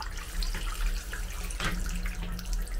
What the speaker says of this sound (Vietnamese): Giờ xả nước nè.